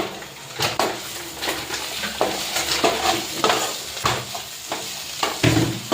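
Masala with cumin powder for a rajma curry is stir-fried in a pan. A spoon scrapes and knocks repeatedly against the pan over a continuous close sizzle, with no one talking.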